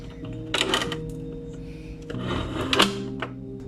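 A stand mixer creaming butter with sugar for a Mexican corn cake, a steady motor whir with rattling, clattering bursts from the bowl and beater.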